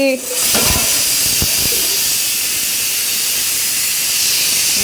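A pressure cooker on a kitchen stove vents steam with a loud, continuous close hiss that begins abruptly and holds steady, with a brief voice at the start.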